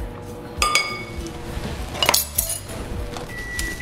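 A metal spoon clinks sharply against a glass bowl while sugar goes into sourdough pancake batter, with several bright ringing taps and a faint scrape, close and clear.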